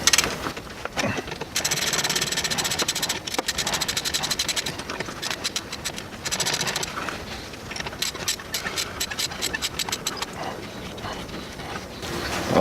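Bolts on a car's heat shield near the alternator are worked loose with a ratchet, giving rapid repeated clicking and metallic rattling in bursts, close up with no talking.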